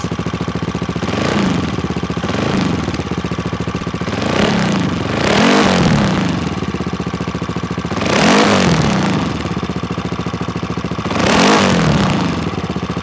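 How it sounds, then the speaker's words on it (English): A CCM 2022 Spitfire Six Stealth motorcycle engine idles while warming up with a steady throb, rising four times into revs that swell and fall back, loud and close, no talking. "I'll just let the engine warm up a little bit and then I can give it a few more revs"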